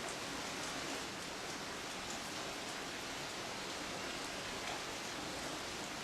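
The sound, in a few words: rain falling in a mountain valley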